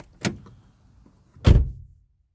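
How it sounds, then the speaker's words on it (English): A car door is opened in a parked car: a short mechanical clunk, a pause, then a heavier close-range thump with a brief low rumble trailing off. "I'm gonna pretend someone just broke in the car by opening the door"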